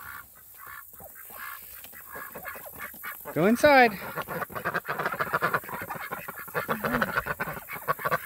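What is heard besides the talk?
ducks quacking and honking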